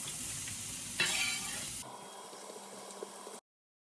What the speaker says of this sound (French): J'ai mis une cuillère à soupe d'huile d'olive et je vais faire rôtir les carottes.